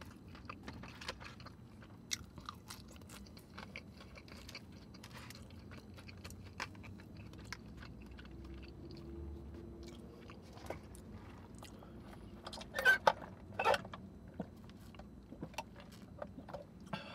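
Someone chews squeaky cheese curds on poutine close to the mic in a quiet room, with soft irregular bites and crunches that grow a bit louder near the end, without talk.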